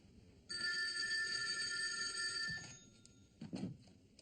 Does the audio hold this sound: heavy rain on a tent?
no